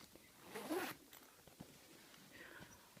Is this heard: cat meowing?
no